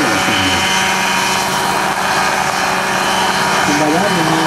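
An Escovar Mario Mosquito ultralight helicopter at Rotorfest 2008 runs its engine and rotor, making a loud, steady, close-up drone with a whirring buzz that holds level throughout, while someone talks over it.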